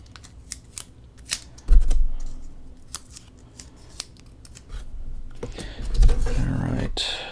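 Scissors snip through foam sheet while cutting parts for an RC foam flyer, a few crisp cuts spread unevenly, with someone talking at times and handling noises between them.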